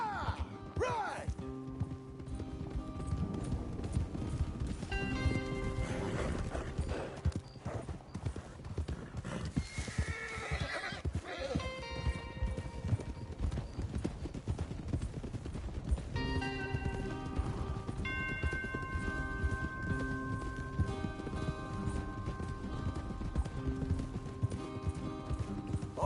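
Horses in a Red Dead Redemption 2 ranch scene clop along at a steady gallop with repeated neighs and whinnies, heard over a continuous music score, with people talking at times.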